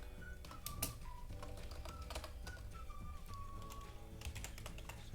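Quick runs of keystrokes on a computer keyboard as an SQL query is entered, steady close clicking over a noisy background with a faint whistling tone running underneath and no talk.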